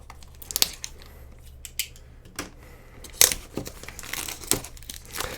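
Plastic packaging around a Sony WI-C300 wireless headset is crinkled and torn open in a quiet room, with a run of sharp, close crackles and snaps separated by short pauses.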